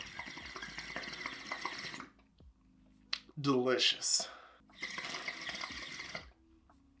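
Water pours and trickles into a glass bong in two long runs, with a brief gurgle and bubbling between them; someone speaks quietly once.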